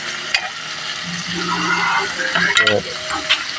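Nukos (squid) with lusay being sautéed in a pan, a steady frying sizzle with a few stirring scrapes and utensil knocks near the end, continuous and close.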